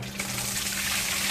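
Coolant gushes through a trepanning tool on a machine, making a brief, steady rush of liquid that stays close and continuous for just over a second.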